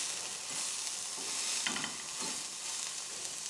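Breakfast sausage fries in a carbon steel pan with a steady close sizzle and hiss, broken by a few brief stirring or scraping touches.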